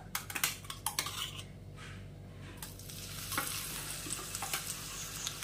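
Onion paste fries in ghee over a low flame for dal curry, giving a soft continuous sizzle broken by scraping stirs and occasional clinks of a utensil against the pan, close and moderately quiet with no talking.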